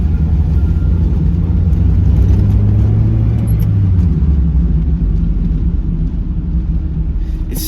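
A Mazda Miata engine runs with a fault that makes it hang at about 1,100 RPM, a loud, close, continuous low rumble that swells slightly early on and then settles into a steady idle.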